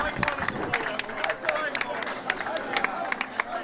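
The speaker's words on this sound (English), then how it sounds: "Tom Olszta, listen to the crowd." A crowd at a candlepin bowling match cheering and clapping, scattered sharp claps and whoops over a murmuring babble of voices, moderately distant and fairly quiet.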